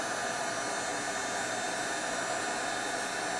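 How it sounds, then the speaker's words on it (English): A heat gun blows hot air during stamp embossing for faux metal clock pieces, giving a steady, close, even rush of broadband airflow that runs unbroken from start to finish with no talk. "So I'm just going to keep the heat gun on here"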